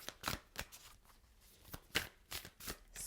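A deck of tarot cards is shuffled in a series of crisp riffles and slaps, several quick bursts separated by short pauses, close and quiet, with no talking.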